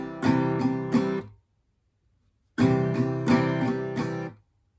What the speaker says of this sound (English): So the C portion would sound like this.